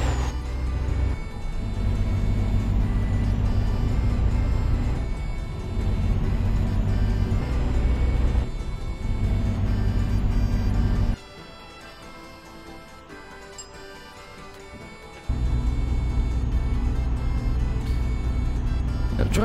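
A heavy truck drives through small Estonian towns in Euro Truck Simulator 2, its steady engine drone running continuously with a brief quieter dip partway through.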